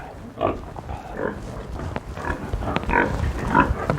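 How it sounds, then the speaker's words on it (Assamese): Pigs on a pig farm give short, repeated grunts and oinks at close range, several overlapping bursts over a low barn background with no speech. "এইটো চবতছে ডাঙৰ গাহৰি।"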